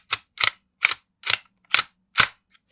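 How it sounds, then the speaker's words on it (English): The charging handle of a Tokyo Marui NGRS MP5 airsoft gun being pulled back, six crisp metallic clacks in an even, quick rhythm, close and loud with silence between them. "pull the charging handle 3 times in quick succession"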